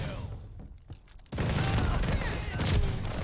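The EX1 energy weapon in Vanguard fires fully automatic. After a quieter opening with a few isolated shots, a loud, dense continuous burst kicks in and runs steadily to the end.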